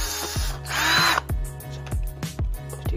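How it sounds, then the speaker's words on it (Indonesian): A power drill bores holes for bolts in a homemade track, starting with a loud whirring burst and then running in short, repeated pulses close by, with no talking. "kita bor lagi, terus kita kasih baut ya"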